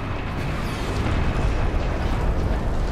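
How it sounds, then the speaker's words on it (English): A grenade launcher blast in the Space Marine video game rolls out as a loud, dense, sustained explosive roar, its broadband rumble filling the whole stretch with no talking. "Grenade launcher plus marksman mode."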